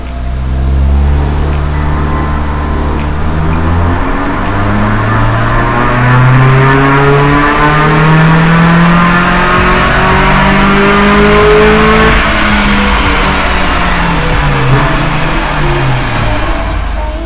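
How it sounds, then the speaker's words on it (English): A car's engine revs hard and loud during a dyno power run after its fuel table was leaned out on a Unichip tune, the pitch climbing steadily through the gears and rising and falling over sustained full-throttle pulls. "Now going to give the car a power run"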